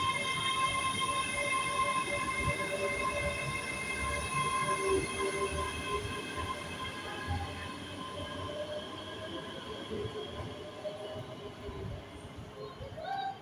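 A train, an HST passing through Stirling station, rumbles steadily through, with sustained tonal squeals and hums from wheels and rails, continuous and fairly loud throughout.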